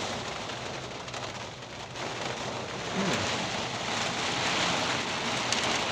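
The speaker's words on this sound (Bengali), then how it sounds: "ভয়ঙ্কর বৃষ্টি হচ্ছে ভয়ঙ্কর বৃষ্টি" Heavy downpour in Krishnanagar outside a hospital, a dense unbroken roar of rain that grows louder midway, with a faint low rumble near three seconds.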